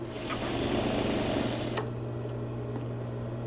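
Sewing machine stitching down a jacket's upper collar and lapel to a corner, a close, loud, continuous motor hum and rapid needle chatter that eases slightly toward the end.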